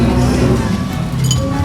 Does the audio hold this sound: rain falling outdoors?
no